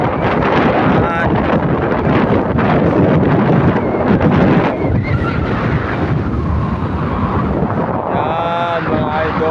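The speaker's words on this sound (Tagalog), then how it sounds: "Ang sarap ng hangin." Strong wind buffets the microphone at a high seaside lookout, a loud continuous roaring rumble with gusty surges throughout, and faint voices mixed in.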